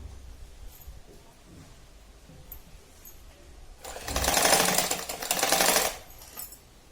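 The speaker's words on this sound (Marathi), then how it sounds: "अशी सरळ शिलाई घेऊन घ्यायची" A sewing machine stitching a small doll dress runs in a short burst of rapid, even stitching for about two seconds near the middle, with quiet fabric handling and faint clicks before and after.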